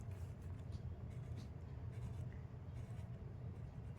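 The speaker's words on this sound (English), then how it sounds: "Keep drawing lines." Pen drawing lines on paper for a Zentangle pattern, a faint, close scratchy scribble of repeated short strokes over a low background hum, no talking.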